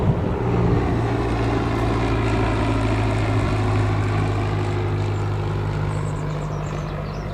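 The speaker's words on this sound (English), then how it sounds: "Nice little prop there." A propeller aircraft at Newcastle Airport drones steadily with a loud, continuous engine roar and low tonal hum, fairly close, easing slightly toward the end with no talk.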